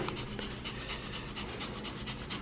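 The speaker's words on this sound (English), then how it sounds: "She's panting like crazy because she knows she's at the vet." A nervous dog pants rapidly and steadily at a veterinary clinic, quick rhythmic breaths close to the microphone, fairly quiet and with no talking.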